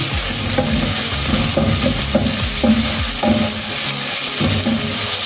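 Onions and garlic sizzle steadily in a frying pan while being stirred, with a spoon scraping the pan in a regular rhythm every half second or so, close and fairly loud, with no talking.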